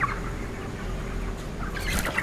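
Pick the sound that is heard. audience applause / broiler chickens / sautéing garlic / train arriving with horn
broiler chickens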